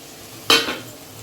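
Tomatoes drop into a pan of browned fried onions, a sudden loud burst of sizzling that quickly fades to a low hiss.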